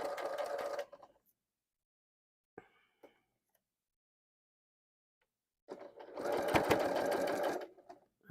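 A sewing machine stitches a quarter-inch seam on a quilt top in two bursts, a short run at the start and a longer, louder run near the end, with near silence and a few faint ticks between.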